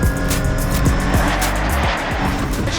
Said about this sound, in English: And we're away and racing at Brands Hatch.